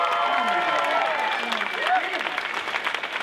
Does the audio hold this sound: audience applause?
yes